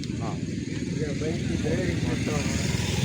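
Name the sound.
motorcycle passing on hill road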